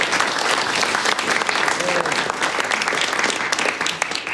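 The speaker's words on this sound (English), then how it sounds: "Give her a round of applause." Dense, sustained audience applause fills a hall after a singer's performance at a Harvard & Smithsonian Center for Astrophysics concert event, loud and even across the whole stretch with scattered sharper claps.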